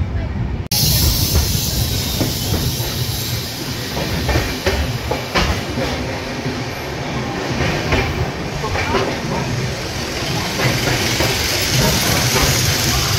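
The Ranchi to Howrah Intercity Express train rumbles and clatters steadily as it pulls away from Bankura station, with continuous loud rail noise and hissing throughout.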